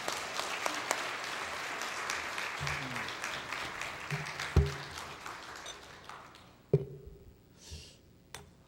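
A church congregation claps to welcome a visiting pastor to the pulpit, a moderate ovation that fades over several seconds into a few scattered, isolated claps and near quiet.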